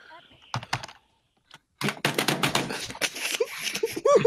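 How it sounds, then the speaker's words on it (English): Rapid, loud keyboard typing clatters up close, mixed with a person talking over the keystrokes during Realm Royale gameplay. "Because I'm typing super loud."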